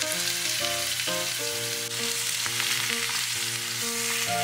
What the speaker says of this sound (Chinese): 这边就直接正常的煎牛排的动作